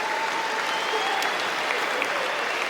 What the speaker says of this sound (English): There's a bit of crowd noise going on.